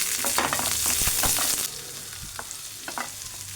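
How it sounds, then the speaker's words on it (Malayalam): Chopped onion stirred into a hot pan with garlic, ginger and green chili for a green peas curry, a loud steady sizzle with scraping stirring strokes up close, no talking. "അതൊന്ന് വഴണ്ടുമ്പോഴത്തേക്കും നമുക്ക് അതിലേക്ക് അരിഞ്ഞു വെച്ചിരിക്കുന്ന സവാള ഇട്ട് കൊടുക്കാം."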